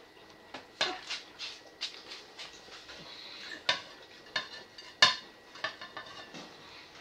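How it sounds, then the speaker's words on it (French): Food slides from a plate into a wok while cooking tuna and parmesan macaroni, with a steady series of light clinks, scrapes and knocks of utensil and plate against metal, close and fairly quiet with no talking. "ce qui est dans mon assiette, je vais mettre directement dans mon wok"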